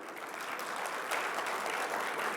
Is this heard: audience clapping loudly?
yes